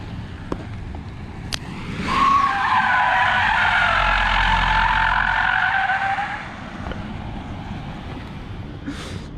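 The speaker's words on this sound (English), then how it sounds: "Just endless understeer and the sound of tires hopping" A Polestar 2 understeering through a tight turn, tires squealing and hopping in a loud sustained skid lasting about four seconds before dropping back to quiet road noise.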